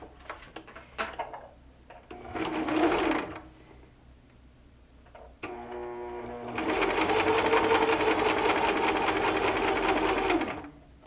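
A sewing machine stitches a quarter-inch seam for a charm pack pincushion, with a short burst of fast rhythmic stitching, a pause with small clicks, then a longer steady run of rapid needle hammering, close and loud.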